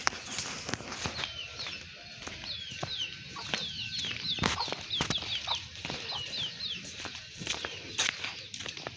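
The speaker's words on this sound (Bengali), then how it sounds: "এই যে হলো দেশি মুরগি" Local desi chickens clucking nearby in a rural yard, repeated short clucks scattered through, with sharp footstep-like knocks and light outdoor background.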